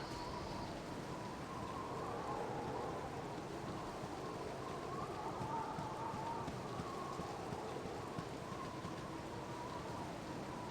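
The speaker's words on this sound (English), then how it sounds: "It's raining." Steady rain falls in the fantasy role-playing game Baldur's Gate, a continuous dense hiss with a faint ambient tone running beneath it, even and unbroken throughout.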